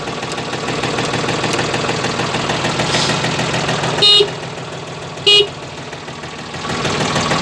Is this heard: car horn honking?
yes